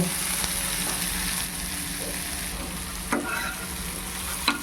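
Onions frying in a pan for egg malai tikka masala, a steady close crackling sizzle with a few brief knocks of a spatula stirring near the end, no one talking.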